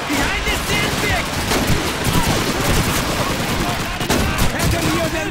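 Loud, continuous automatic machine gun fire in the WWII shooter Call of Duty 2's Russian campaign, rapid rattling bursts mixed with scattered gunshots and battlefield clamor, with shouted voices underneath.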